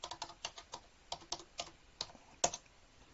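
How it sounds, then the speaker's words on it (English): Typing an IP address on a computer keyboard, a quick run of close, crisp key clicks in an uneven rhythm with one sharper tap near the end, with no talk. "I'll go to the internet and type the IP address of this VM"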